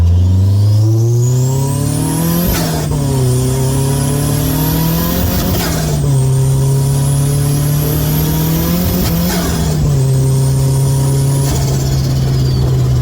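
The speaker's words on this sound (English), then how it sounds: "Time to get some miles on it, we'll get it running." A car with a newly fitted engine accelerates hard, its loud, close engine note climbing repeatedly and dropping at each of several gear changes before settling into a steady cruise.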